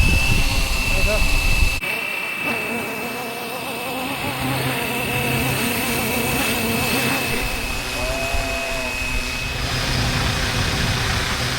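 A Flywing BO105 scale RC helicopter spooling up for takeoff outdoors in strong wind: a steady high whine with a pulsing rotor drone that holds throughout, with gusty wind noise underneath and a person talking over it.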